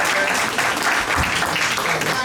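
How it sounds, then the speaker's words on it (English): A crowd at a comedy festival finals applauds in a dense, continuous wash of clapping that stays loud and steady throughout, with some crowd voices mixed in. "Jill Silva, let's clap."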